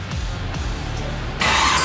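A 1969 Chevrolet Camaro's big-block 502 V8 engine rumbles low, then bursts into a sudden, loud roar near the end.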